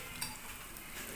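Vegetables sizzle quietly in hot oil in a pan for an Assamese-style egg curry, with a faint scrape of stirring and no talk.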